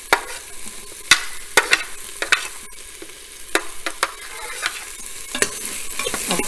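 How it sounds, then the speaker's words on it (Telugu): Chillies and onions sizzle in a pan for a curry, with a steady frying hiss broken by sharp, repeated scrapes and clicks of a spoon stirring, close and fairly loud. "ఇప్పుడు చిల్లీస్ యాడ్ చేస్తున్నాను."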